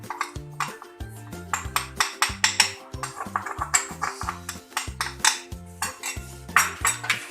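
Yogurt is whisked in a cup with a spoon, making rapid rhythmic metallic clinks and scrapes, loud and close, over a steady run of several seconds.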